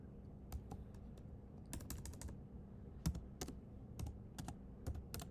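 Keystrokes on a computer keyboard while entering text in a Canva flyer design, heard as quiet, close, irregular clusters of clicking taps with short pauses between bursts.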